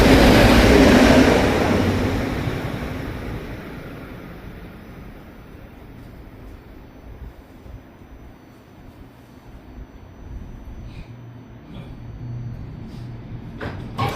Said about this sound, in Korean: 좀 기다린 끝에 드디어 열차가 왔습니다